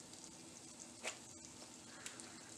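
Egg-soaked bread frying in a pan over low heat: a soft, steady sizzle with a couple of brief crackles, close and quiet, no voices.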